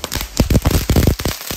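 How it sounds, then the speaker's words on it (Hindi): A popcorn-style firecracker goes off close by in a quick irregular series of sharp pops and crackles lasting a little over a second. "तो भाई अभी शायद चला रहा पॉपकॉर्न वाला पटाखा"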